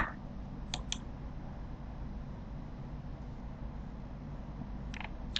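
Two quick pairs of computer mouse clicks, one early and one near the end, faint and close over a steady low room hum.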